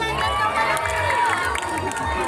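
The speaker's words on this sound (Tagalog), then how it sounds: "masigabong palakpakan na may kasamang hiyawan" An audience at a pageant's national costume competition cheers and shouts in a lively, continuous burst, with whoops and calls rising over a crowd murmur for a couple of seconds.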